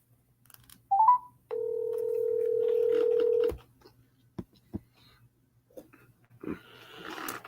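A telephone call goes out with a brief dial chirp, then a long steady tone of about two seconds, followed by faint clicks and line noise. No one speaks.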